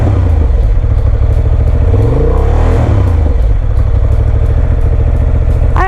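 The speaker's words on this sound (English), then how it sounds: "we'll give it a little bit of a rev" A Honda CB750 Hornet on its stock exhaust idles, then gets a quick blip of the throttle that swells into a rising rev and drops back to a loud, close idle.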